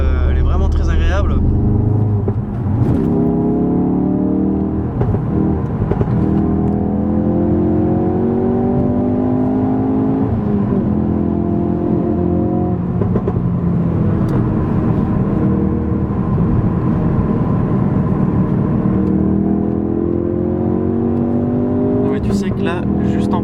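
Ford Focus RS engine heard from the passenger seat, a loud steady drone with rising and falling revs that swell and ease repeatedly, continuous throughout with a brief burst of extra noise near the start.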